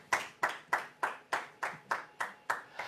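A church congregation claps in worship, ten sharp evenly spaced claps in a steady rhythm, loud and close with no voices over them.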